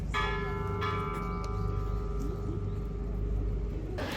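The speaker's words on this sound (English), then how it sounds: "That's the Peace Bell." Peace Bell at Hiroshima Peace Memorial Park rings with a deep, sustained metallic tone lingering over a steady outdoor background of traffic and crowd murmur, heard from a short distance.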